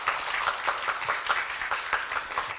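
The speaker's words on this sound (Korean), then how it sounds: "큰 박수 부탁드리겠습니다." Lecture-hall audience applauding steadily at a university liberal-arts special lecture, dense clapping throughout with no speech.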